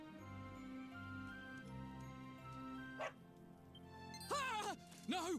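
A dog barks twice near the end of a Dragon Quest 11 town scene in Heliodor, with yips and whimpering over steady game music.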